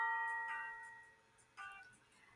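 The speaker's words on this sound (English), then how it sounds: "They give everyone a turn to ring the old brass fire bell outside" An old brass fire bell outside a firehouse rings out in two clear metallic strikes, each leaving a bright, lingering ring that fades before the next.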